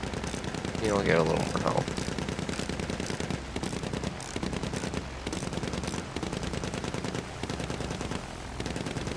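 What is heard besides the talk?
machine gun fire in the video game Battlefield 1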